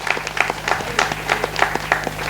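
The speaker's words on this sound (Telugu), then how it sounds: "గట్టిగా చప్పట్లు కొట్టి ఆ దేవాతి దేవునికి వందనాలు తెలియచేద్దాం" A church congregation at a new church consecration in Lingarajupalem claps together in a quick, steady rhythm, with bursts of clapping repeating close by and filling the room.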